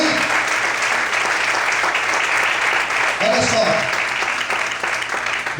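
Congregation applauding during an evening church service, a steady broadband wash of clapping that fills the whole stretch, with brief voices and a short tonal sound rising midway.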